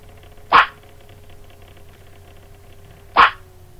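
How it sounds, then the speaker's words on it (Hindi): Dogs bark twice, with two sharp, loud single barks about two and a half seconds apart over a quiet background hum. "कुत्तों का टोला भौंकता चला गया।"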